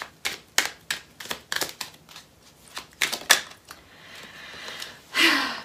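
Tarot cards being pulled and shuffled give a series of quick, close, soft papery snaps and riffles in irregular bursts, ending in a longer rustling sweep.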